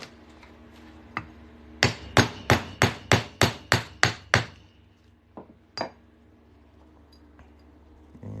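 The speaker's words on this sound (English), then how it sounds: "we'll just hammer it on through" A half-inch center punch is driven through a silver 1996 quarter with nine sharp, evenly spaced hammer blows that ring metallically, followed by a few lighter isolated taps, all close and clear with no talking.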